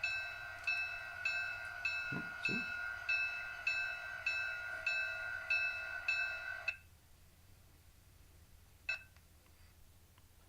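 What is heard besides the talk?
model train sound decoder: locomotive prime mover and bell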